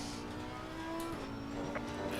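A Trabant's two-stroke engine drones in a racing video game at Watkins Glen, a steady buzzing whine with a tonal hum that shifts pitch midway, heard continuously with no voices.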